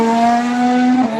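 Formula 1 car driven by Bottas, a loud close engine howl holding a high tone and then dropping sharply as it downshifts near the end of a brief pass.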